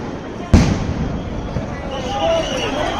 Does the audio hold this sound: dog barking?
no